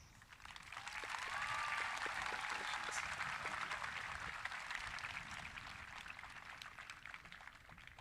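Applause from a graduation audience after a student speech, heard as a distant, washy roar of many hands that swells after a second, holds steady and then slowly thins out.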